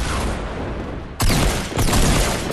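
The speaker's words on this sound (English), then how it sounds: "He's getting shot at" Gunfire in the Fortnite video game: steady background noise is broken by two loud, sharp blasts about half a second apart, each followed by a dense burst of shots.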